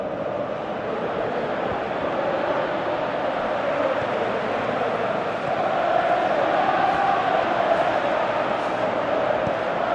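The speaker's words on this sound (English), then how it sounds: "you can feel and hear how the crowd are reacting to all of this." A large stadium crowd in a football video game roars steadily, a broad continuous wash of cheering that swells slightly toward the end.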